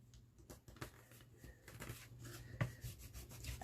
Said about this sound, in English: And burnish that well.